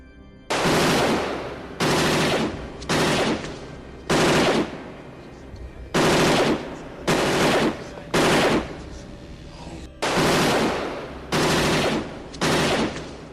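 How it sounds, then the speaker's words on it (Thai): AK-47 rifle fire in repeated loud bursts, about eight sustained volleys separated by short pauses, close and harsh in a jungle setting outside a high wall. "เสียงอาก้า"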